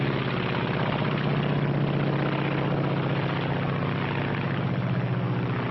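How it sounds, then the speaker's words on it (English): A Mitsubishi A6M Zero, a Japanese WWII fighter plane, drones steadily in flight, its propeller engine giving a continuous loud, buzzing roar with no pauses, heard through old film sound. "This is the Japanese Zero."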